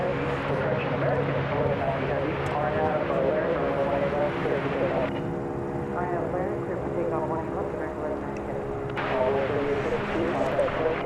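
American Airlines jet in heritage livery taking off at Dallas/Fort Worth Airport, a steady roaring engine rumble that holds loud through the clip under ongoing talk.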